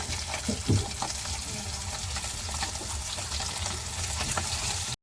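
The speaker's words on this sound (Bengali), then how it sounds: "আমাদের মাছ ভাজা হয়ে গেছে দেখুন একদম লাল হয়ে গেছে মাছ এখন আমরা তুলে নেব" Hot oil sizzles and crackles steadily as fish fries in a wok, with a few brief clatters near the start.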